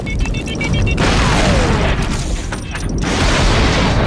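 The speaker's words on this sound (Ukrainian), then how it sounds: "Закладаю вибухівку. Готуйсь." A heavy explosive detonation from the Star Wars Republic Commando video game: a loud broadband boom at the start that rolls into a sustained, rumbling crash and debris wash for several seconds, with no talk over it.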